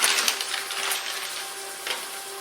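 A square piece of beef sizzling as it sears in hot olive oil for Beef Wellington, a steady close crackle with a few sharper spits and a light clatter of the pan.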